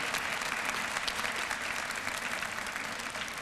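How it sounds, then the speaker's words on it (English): A graduation audience applauds steadily at a summer school-district ceremony, a dense, loud wash of clapping that holds evenly from start to finish with no speech over it. "Students, would you give everybody who came here tonight a round of applause and thank them for that?"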